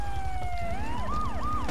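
A police car siren from the video game GTA 3 wails steadily and loudly, its pitch sweeping down and then rising and falling in repeated cycles over a low rumbling engine.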